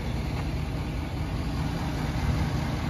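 2016 Ford F-350 King Ranch 4x4 with the 6.7 Power Stroke diesel idling, a low, steady rumble heard up close with no talking.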